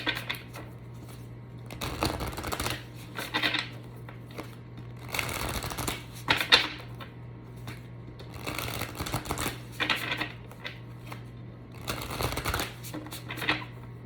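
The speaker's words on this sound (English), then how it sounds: "so I shuffle as many times as they give me that number" Tarot cards being riffled and shuffled in repeated bursts, each flurry of crisp fluttering snaps separated by short pauses, with a low steady hum underneath.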